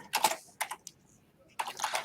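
Quick bursts of typing on a computer keyboard, clustered key clicks separated by short pauses, close and fairly quiet.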